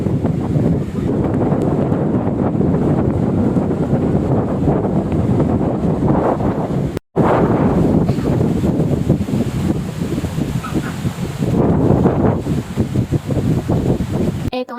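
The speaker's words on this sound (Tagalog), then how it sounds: "Paparinig ko nga sa inyo kung gaano kalakas yung hangin kasi dinig na dinig sa video dito." Strong wind buffets the microphone in a loud, continuous roaring rumble, with a brief dropout midway and gusts swelling and easing throughout.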